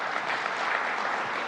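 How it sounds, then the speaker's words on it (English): Dense, steady applause from an audience at a governor's announcement event in Syracuse, a continuous wash of many hands clapping at even loudness through the whole stretch, with no voices standing out. "To make sure you can give that a round of applause if you like"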